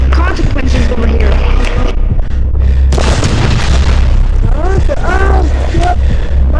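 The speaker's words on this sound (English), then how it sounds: "My man got a fucking grenade launcher." Grenade launcher explosions in the Gorebox video game, deep booming blasts rumbling under constant loud game noise while someone talks excitedly over them.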